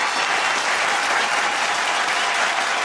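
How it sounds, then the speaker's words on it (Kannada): A studio audience on a Kannada TV game show breaks into loud, dense, sustained applause that holds at an even level throughout, with no voices breaking through. "ಒಂದು ದೊಡ್ಡ ಚಪ್ಪಾಳೆ ಪ್ಲೀಸ್"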